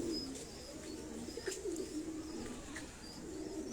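Pigeons in Abbottabad coo quietly, with low rolling calls repeating faintly over soft ambient noise.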